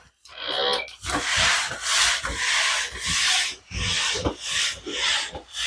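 A Swiffer WetJet mop is pushed across a tile floor, giving loud, close, continuous rubbing and swishing strokes in steady back-and-forth surges with brief pauses between passes.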